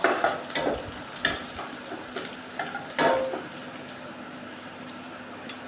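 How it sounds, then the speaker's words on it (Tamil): Onion, garlic and ginger frying over medium flame while being stirred, with a continuous sizzle broken by repeated scraping strokes of a spoon against the pan, close and without talk. "இதையும் நல்லா நம்ம கிளறி விட்டுக்கலாம்"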